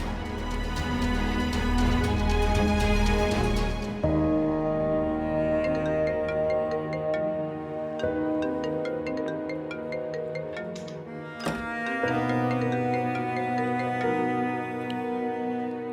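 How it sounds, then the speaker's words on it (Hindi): A phone ringtone plays a melodic tune that repeats for a long stretch and goes unanswered, heard clearly and steadily within a Pakistani TV drama scene. "फोन उठाएं प्लीज।"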